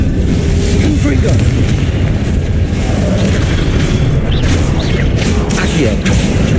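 A Confringo explosive spell blasts in the Hogwarts Legacy video game, a loud sustained booming roar with rumbling low end that continues throughout, while a voice calls out spells over it.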